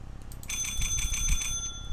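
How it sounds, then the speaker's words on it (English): A bell rung inside a horror video game, a bright ringing tone with sustained overtones that starts about half a second in and holds steadily over low rumbling game ambience. "Let's ring the bell."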